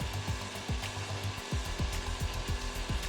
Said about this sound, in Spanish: Vamos a conectar este taladro.